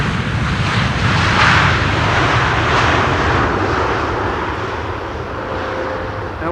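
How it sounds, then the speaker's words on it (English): A Boeing 787-10 Dreamliner airliner touches down on runway 18R at Schiphol after a long-haul flight, a loud, steady broadband engine roar and rushing rumble sustained throughout, with no talk over it. "Touching down after 9 hours and 50 minutes of flight."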